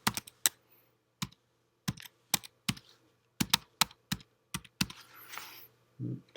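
Keys on a computer keyboard are tapped in short irregular bursts as a password is typed at a virtual desktop logon, crisp close clicks with brief pauses between groups.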